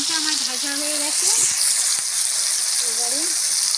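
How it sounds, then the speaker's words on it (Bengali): Tomatoes with a dried chilli and salt frying in a pan, a steady close hiss of sizzling oil throughout, with a voice speaking briefly over it. "টমেটোটা আমার ভাজা হয়ে গেছে।"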